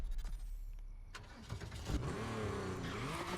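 Car engine in the racing game The Crew Motorfest, a customised build, revving with rising and falling pitch sweeps over a steady low rumble, loud and close throughout.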